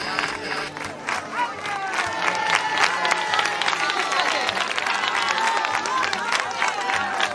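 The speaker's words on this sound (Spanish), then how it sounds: "Así, señores, recibe La Puebla a sus Romeros entre aplausos, muchos aplausos." A crowd in La Puebla applauds and cheers to welcome Los Romeros de La Puebla, a dense, steady wash of clapping with whoops and shouts, loud and sustained throughout.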